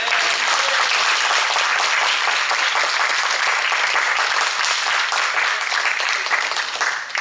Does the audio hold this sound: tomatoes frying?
no